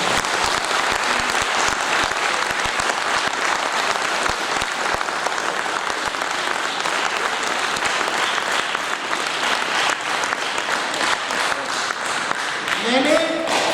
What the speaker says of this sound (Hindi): इन बच्चों के लिए एक बार जोरदार तालियां होनी चाहिए।